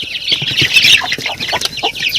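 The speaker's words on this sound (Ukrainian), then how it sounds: "А ну зараз я спробую курочку до півника занести." A hen and rooster cluck close by in a Ukrainian backyard poultry yard, a dense run of overlapping clucks and squawks that stays loud and steady for about two seconds with no talking.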